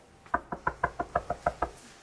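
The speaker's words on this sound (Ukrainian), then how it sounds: "я часто стукую першим оскільки не дуже логічно, якщо він буде стукати першим" Knuckles rapping on an office door, about nine crisp wooden knocks in a quick, slightly uneven rhythm, close and clear with no voices.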